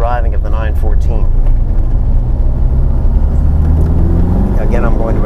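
A Porsche 914 accelerates on the road, its engine rumbling loud and close with a rising drone, under someone talking.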